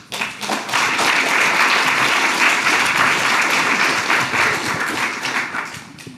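Sustained applause from a conference audience thanking the speakers after global health lightning talks, a dense steady wash of many hands clapping at full loudness for about six seconds before tapering off at the end.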